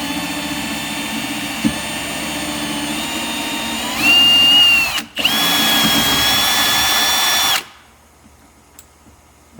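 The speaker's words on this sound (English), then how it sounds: "So now we're just going to pre-drill" A power drill fitted with a 3/16 inch bit pre-drills holes in HDPE hatches on a 2016 Lund 208 GL boat. The motor whines loud and close, rises in pitch, stops briefly, then runs again before cutting off.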